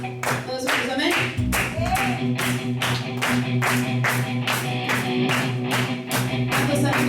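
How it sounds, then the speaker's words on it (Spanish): A church congregation claps together in a steady rhythm, a long run of loud, even beats over sustained music, with a voice briefly heard. "Den un fuerte aplauso al Señor"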